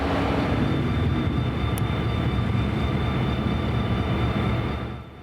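A Florida East Coast Santa train led by a diesel locomotive, a steady loud rumbling drone with a constant high whine, fading slightly at the end, with no talk.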